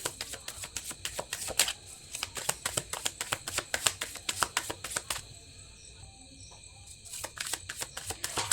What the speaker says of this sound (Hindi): तो चलिए कार्ड्स को शफल करते हैं।